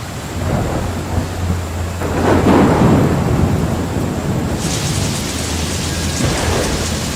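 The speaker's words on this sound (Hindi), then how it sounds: "फिर लगातार 15 दिनों तक बारिश होती रही।" Heavy rain pours steadily in a village storm, with deep thunder rumbling and swelling midway, the downpour loud and continuous throughout.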